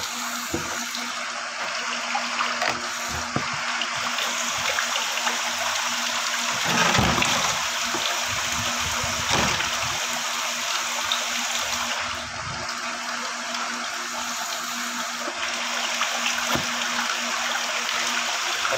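Water runs continuously while a mineral water purification membrane is cleaned and its water changed, a steady rushing flow with a faint hum underneath and a few brief splashes.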